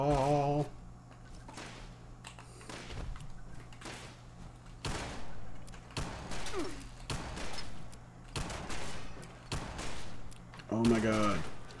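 Gunfire in the video game Fallout 76: a string of sharp, separate shots spaced irregularly at moderate loudness over a steady game hum, with speech-like voice bits at the start and end.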